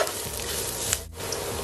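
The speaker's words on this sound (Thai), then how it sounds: "ผัดชัยโป๊ของเรา ให้สุกหอมก่อนนะครับ" Constant loud sizzling of salted turnip stir-frying in a hot wok, with the scrape of stirring, close up.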